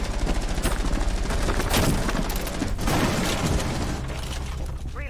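Rapid gunfire in the video game Rainbow Six Siege: dense bursts of automatic shots with booming impacts and clatter, loud and continuous for several seconds.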